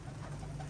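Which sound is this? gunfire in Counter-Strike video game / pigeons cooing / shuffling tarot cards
pigeons cooing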